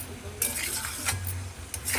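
Masala with curry leaves stir-fried in oil, heard as close scraping and clinking of a spoon against the pan over a soft sizzle, with short strokes repeating.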